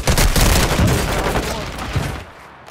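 Rapid gunfire from a first-person shooter video game, dense bursts of shots rattling loudly and continuously before easing off toward the end, with faint talk underneath.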